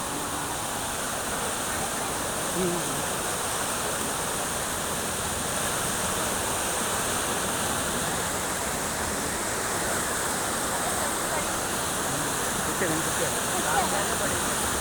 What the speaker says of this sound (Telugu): ఇలా బుడమేరులోంచి నీళ్లు మొత్తం కూడా ఇప్పుడు ఏలూరు కాలువ మీదుగా సముద్రంలో కలుస్తుంది.